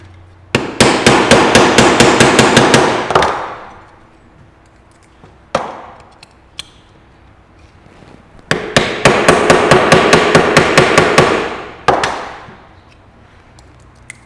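Steel chisel struck repeatedly by a hammer to drive out a motorcycle steering bearing cone, in two fast bursts of sharp metallic blows with a few isolated strikes between, close and loud with no talk.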